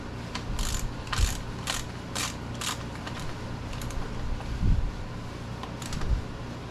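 A primary drain plug being snugged back in on a 2019 Harley-Davidson Street Bob, quick close ratchet clicks in short bursts with soft metallic handling knocks between.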